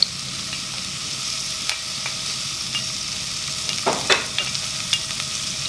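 Onions fry in sunflower oil in a pan, a steady close hiss of sizzling with a few soft spatula scrapes and taps, no speech.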